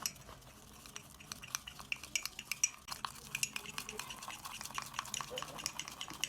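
Spoon stirring coffee with a little water in a cup by hand, a steady run of quiet scraping clinks against the cup sides, close and faint.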